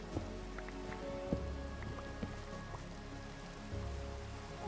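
Rain falling in Minecraft, a steady patter of drops with a low rumble under it and a few faint clicks from the game, continuous and moderately loud, with no one speaking.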